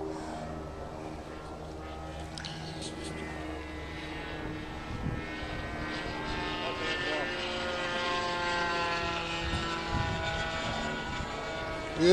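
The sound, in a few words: 60 size RC model airplane with OS FX .61 engine flying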